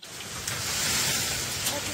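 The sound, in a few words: storm wind and rain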